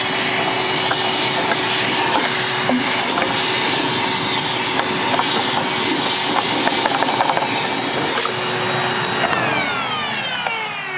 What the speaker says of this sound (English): if you have a shop vac, it's a great way to suck any moisture or dirt out of that tank